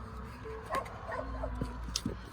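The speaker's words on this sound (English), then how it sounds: "Sorry about my dog barking." Faint, brief dog yips and whimpers in a quiet room, a couple of short sharp sounds near the end over low background noise.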